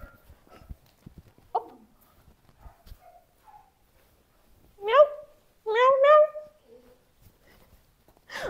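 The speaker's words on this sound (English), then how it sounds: "Oh, this cat!" A pet cat gives several loud, drawn-out meows, the strongest pair close together in the middle, with scattered soft knocks and quiet handling noises between them.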